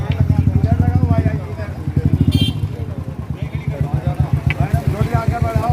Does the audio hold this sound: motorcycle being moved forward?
yes